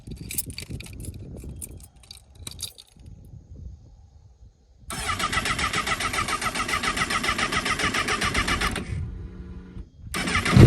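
A Honda CBR1000RR liter-bike engine cranks with short starter whirrs, then catches and runs at a loud, steady idle for several seconds, cuts off, and restarts at the end, close up and alone.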